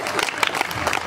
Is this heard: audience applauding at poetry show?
yes